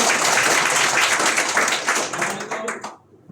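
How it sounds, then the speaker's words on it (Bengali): An audience gives loud, sustained applause at an office opening ceremony in Comilla, a thick wash of clapping that holds steady and then fades out quickly at the close, with some voices underneath. "আরেকটা জোরে করতালি"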